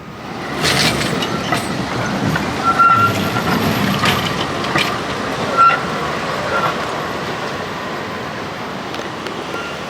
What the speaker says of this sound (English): I've seen quite a few trams on my travels around Belgrade, but this one's got to be the oldest I've seen.